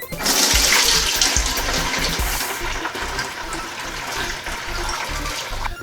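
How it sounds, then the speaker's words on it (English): Homebrewed beer wort pours from a pot through a sieve, a steady loud gushing splash of liquid continuing for several seconds with no talk. "I'm going to take the wort right here in this pot, run it through this little sieve-like thing here"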